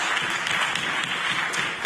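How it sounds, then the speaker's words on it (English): Government members in the Nova Scotia legislature clap during question period, a dense and steady round of applause with a few sharper claps standing out. "the government members can clap all they want"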